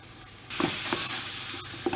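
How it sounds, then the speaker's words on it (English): Lamb mince sizzles loudly in a pan with crushed garlic, a steady broadband fry that starts abruptly partway through, with a few scraping stirs on top. "Now we just want to cook this all together until our lamb has colour on it."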